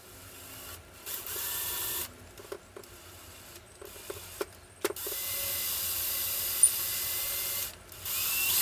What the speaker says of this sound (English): Once I drill the hole